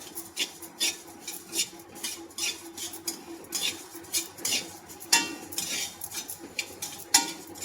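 Chakli bhajani flour dry-roasting in a pan over a low flame, a spatula scraping and stirring in repeated irregular strokes with occasional sharper metal clinks, close and clear with no talking.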